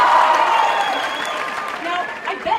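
Applause from a crowd of fans at a convention panel, a short burst of clapping that tapers as a voice speaks over it.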